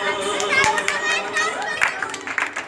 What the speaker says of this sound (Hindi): धीरे धीरे तालियां तो बजाओ